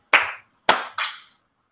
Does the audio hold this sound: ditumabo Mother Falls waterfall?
no